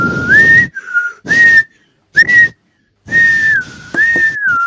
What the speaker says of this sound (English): Back away from the mic when you whistle.